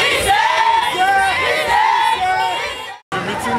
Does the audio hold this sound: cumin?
no